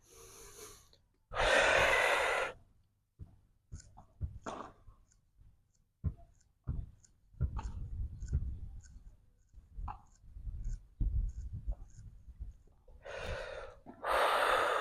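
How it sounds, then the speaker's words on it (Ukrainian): Deep, forceful breathing during agnisara kriya yoga practice: a long loud inhale and a full exhale, with quieter breath and clicking sounds from abdominal movement between them, then another strong breath near the end. "Вдих, повний видих, втягуємо живіт і рухаємо."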